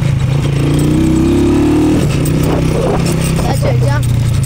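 A 250cc motorcycle engine runs loud and close throughout, its steady low drone rising in pitch as it revs and then settling back, with speech over it.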